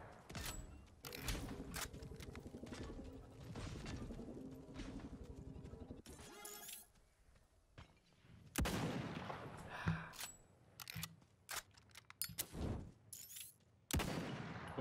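Gunfire in the online battle royale game Realm Royale, with loud bursts of shots and blasts coming in irregular clusters over a dense, busy game mix with no speech.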